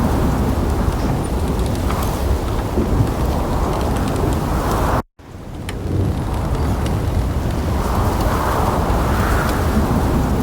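Steady, loud rain with deep rolling thunder rumbling through a thunderstorm in the video game The Pillars of the Earth, continuous and dense, cutting to near silence for a moment midway before the downpour and rumble resume.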